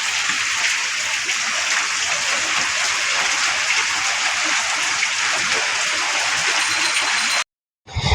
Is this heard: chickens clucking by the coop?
no